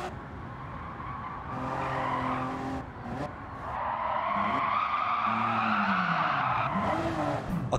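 In Gran Turismo 7, a car's tires squeal and skid after the handbrake is pulled, with the engine revving and dropping through several slides; continuous and fairly loud, with no talk.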